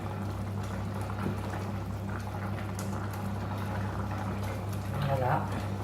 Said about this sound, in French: Et je la laisse mijoter pendant 10 minutes